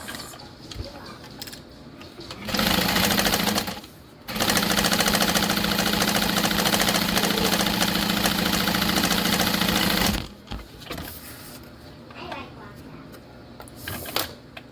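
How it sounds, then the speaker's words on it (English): A sewing machine runs steadily for several seconds, stitching across the bottom of handbag panels with a half-inch seam, loud and close, with a brief pause partway and quieter room noise before and after. "We're gonna sew across the bottom with a 1/2 inch seam allowance."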